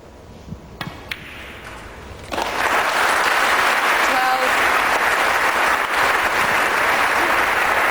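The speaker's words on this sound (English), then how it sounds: "Generous round of applause." Snooker crowd at the 2008 World Series in Warsaw breaking into sustained, generous applause after a quieter opening, the clapping loud and steady, with a commentator's voice audible over it.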